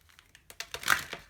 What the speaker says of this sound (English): I'm gonna just shuffle a few cards with the romance angels